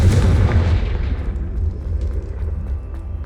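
A Confringo explosive spell in Hogwarts Legacy bursts with a loud, deep booming blast that rumbles and fades out over a few seconds.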